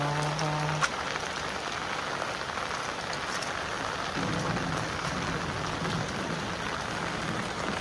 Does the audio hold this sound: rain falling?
yes